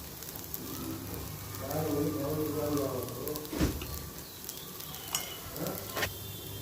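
Toor dal dosa frying in oil on a hot pan gives a steady, close sizzle with a few sharp scraping clicks, while a faint voice murmurs briefly in the background.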